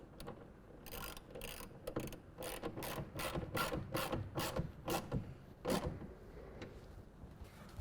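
Ratchet tightening a clamp for a Gator EFX hard folding tonneau cover on a 2024 Toyota Tacoma bed, a steady run of close, crisp ratcheting clicks in bursts.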